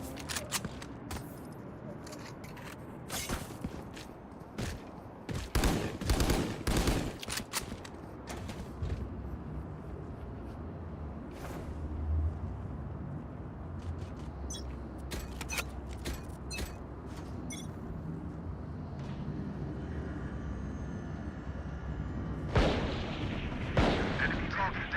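Bursts of gunfire in the tactical shooter game Valorant, a dense run of sharp shots in the first seven seconds, then scattered single cracks over steady background game noise and a loud closing flurry.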